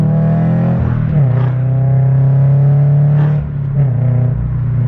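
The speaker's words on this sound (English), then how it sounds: "the Subaru Rumble never gets old" Close, loud engine rumble from a Subaru BRZ accelerating hard, the revs rising and briefly dipping at gear changes. No voices.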